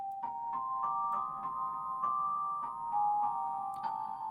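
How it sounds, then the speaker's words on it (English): A digital piano on its celeste setting plays a soft, bell-like melody of evenly spaced chiming notes with ringing sustain and reverb tails, fairly quiet and with no voices. "a Imogiro piano being used on the Celeste setting"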